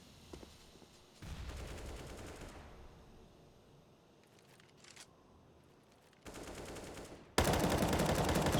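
Gunfire from a professional Counter-Strike match on the Nuke map comes in bursts: short rattling volleys and scattered single shots, with a loud sustained burst of rapid fire at the end.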